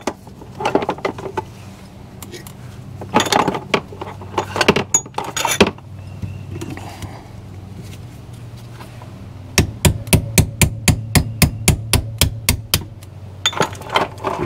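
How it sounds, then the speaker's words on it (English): A cotter pin is worked out of a motorcycle trailer axle, with scattered metallic knocks and handling noises followed by a quick, evenly spaced run of sharp taps, then more clatter. "Just gonna take this carter pin out."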